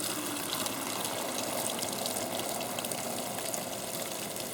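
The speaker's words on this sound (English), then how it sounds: "you're going to rinse that individual tooth in clean fresh water" Clean fresh water steadily rinses a single denture tooth held in a strainer, a continuous close gushing splash with no pauses and no voices.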